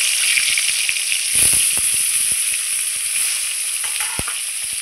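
Katla (rohu-type carp) fish heads dropped into hot oil in a home kitchen, giving a loud, steady sizzle and crackle throughout, with sharp spattering pops and a few stirring clicks, no talk.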